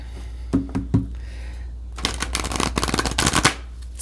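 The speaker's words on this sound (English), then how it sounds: "I'm messing up the cards when I shuffle" A large oracle card deck is shuffled by hand: a few soft taps, then a loud, close, rapid riffle of cards flapping together, with no talking.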